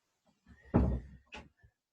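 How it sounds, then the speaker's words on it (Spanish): A door thuds shut nearby with one solid knock, followed by a smaller second knock as it settles, in an otherwise quiet room. "Ciérrame la puerta, ¿ya?"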